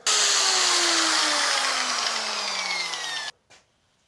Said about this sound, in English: So I'm just going to fucking grind that.